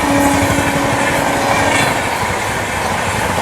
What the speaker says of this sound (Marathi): नुसतं क्रॉसिंग होत आहेत